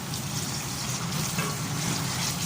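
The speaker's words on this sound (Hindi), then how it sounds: "हल्का सा पानी डालें।" Water is poured into a pan of chicken curry masala as it cooks, a steady soft wash of liquid with a faint sizzle, continuous and close for the whole moment.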